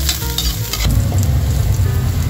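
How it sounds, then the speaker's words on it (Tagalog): Garlic hits hot cooking oil for a chicken and liver chopsuey, giving a loud, steady frying sizzle with stirring clatter at the start, continuous and close with no talking. "Pwede na natin guys ilagay yung ating bawang"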